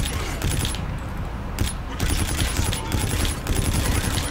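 Loud, rapid automatic gunfire from a weapon in Call of Duty: Infinite Warfare, in sustained bursts with brief pauses and faint metallic pings.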